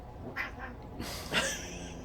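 Cats meowing, a couple of short faint mews in a quiet indoor room, each brief and spaced apart with low background hiss.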